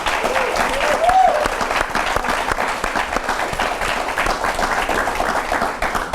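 Sustained audience applause, many hands clapping at a steady, full volume for several seconds, with a faint voice briefly audible underneath.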